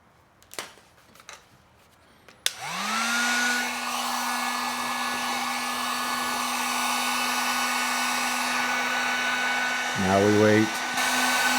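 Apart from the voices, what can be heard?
heat gun running on low setting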